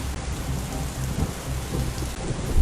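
Heavy rain pouring down with deep rumbling thunder underneath, a dense, steady wash of sound with low booming swells and no voices.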